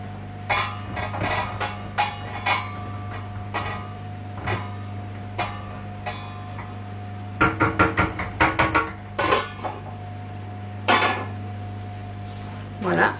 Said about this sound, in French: il faut penser à donner un petit coup de cuillère au poireau